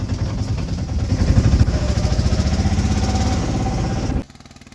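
A motorcycle engine runs steadily and loudly up close with a rough, pulsing rumble, then cuts off abruptly near the end.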